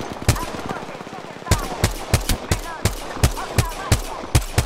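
Rapid gunfire in the video game Apex Legends, about a dozen loud, sharp shots fired in an uneven stream, with a short pause early on and a busy background of game noise.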